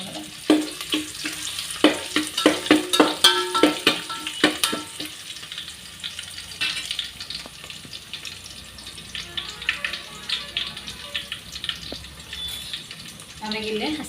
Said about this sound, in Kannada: ಕರಿಬೇವು, ಆಮೇಲೆ ಬೆಳ್ಳುಳ್ಳಿ ಹಾಕಿ ಇಷ್ಟ ಹಾಕೋಬೇಕು ರೀ. ಸ್ವಲ್ಪ ಫ್ರೈ ಮಾಡ್ಕೊಳ್ಳೋಣ.